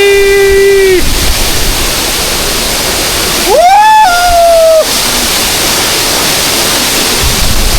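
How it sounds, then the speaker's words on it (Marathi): A loud, constant roar of a waterfall in the Sahyadri hills near Kolhapur crashing nearby, with two brief high tonal notes sounding over the rushing water. "जबरदस्त आपल्याला इथं धबधबा बघा मिळतो"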